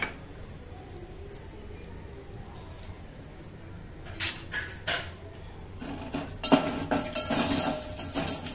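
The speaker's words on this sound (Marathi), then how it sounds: "हे थोडे शॅलो फ्राय करून घ्यायचे आपल्याला काजू" Cashews shallow frying in a pan on a gas stove, a soft sizzle under clinks and scrapes of a utensil against the pan, growing busier toward the end.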